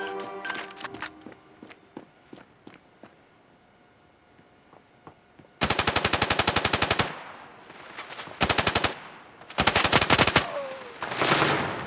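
Rapid automatic bursts from the mobile shooter Standoff 2, first scattered single clicks and shots, then several loud, close sustained rattles separated by short pauses.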